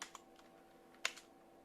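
Keys clack on a computer keyboard during a typing lesson, a few soft, sparse strokes and one sharper tap in a quiet room.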